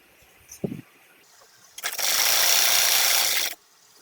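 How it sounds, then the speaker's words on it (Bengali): A sewing machine runs steadily for about two seconds while stitching the side seam of a child's kameez cut from gauze fabric, preceded by a few faint handling clicks and a brief thump. "এই সাইডে আমি একটা সেলাই করে নিচ্ছি"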